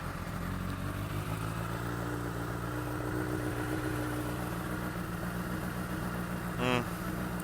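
A Honda CBR1000RR sport motorcycle with an aftermarket exhaust starts and idles steadily with a low, throbbing rumble, loud and close, and a brief chirping sound rises near the end.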